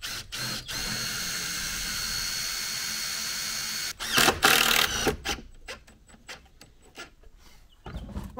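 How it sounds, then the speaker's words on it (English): A power drill drives a screw through soft copper, a steady high whirring for about four seconds, followed by short bursts of clatter and handling noise. "Now, the copper is really soft, so I can just screw through that."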